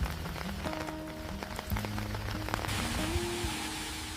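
Steady rainfall in a Swiss alpine village near Interlaken, a soft continuous patter with faint background hum, quiet and even throughout.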